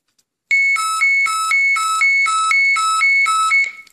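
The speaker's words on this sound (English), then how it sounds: "you will receive a distress alert, it'll actually look and sound like this" A loud electronic alarm from a marine radio DSC distress alert, with repeating two-tone beeps in a steady, rapid pattern, continuing for several seconds before cutting off.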